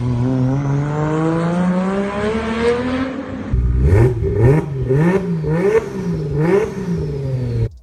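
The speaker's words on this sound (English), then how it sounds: "Here's the sound of a single turbo Supra." Single-turbo Toyota Supra engine revving loudly and close: a long rising rev, then a series of about five sharp blips with the pitch climbing and falling, heard alone without talk.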